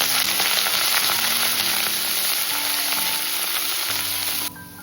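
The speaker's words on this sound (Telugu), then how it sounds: "జీలకర్ర 1 స్పూను, సోంపు 1 స్పూను వేగనివ్వాలి." Cumin and fennel seeds with curry leaves fry in hot oil for a mutton pepper fry, making a loud, continuous crackling sizzle heard close up without speech, which drops away abruptly at the end.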